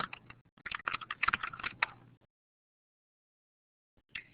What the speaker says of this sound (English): So I'll just type in a brief message.